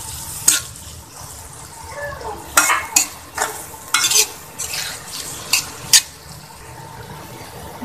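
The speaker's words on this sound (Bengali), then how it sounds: "তেলের মধ্যে ভেজে নেব।" Salt and turmeric with spices frying in oil in a pan, a soft sizzle beneath sharp scraping stirs that come in irregular bursts, close and moderately loud.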